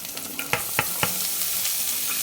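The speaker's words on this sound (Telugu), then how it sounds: "ఒకసారి పైన కింద చక్కగా కలపాలి" Chopped cabbage is stirred in a hot pan with a light sizzle underneath, with a few distinct scraping strokes early on, then a steady frying hiss with no talking.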